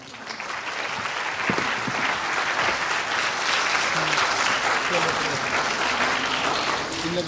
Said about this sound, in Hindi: इंतहाई पुरजोश अंदाज में आपकी तालियों की गूंज में